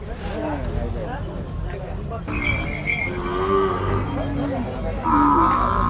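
Bullocks at a village cattle fair in Ankalagi near Gokak give low, drawn-out lowing calls over a steady crowd hubbub, with people talking nearby throughout.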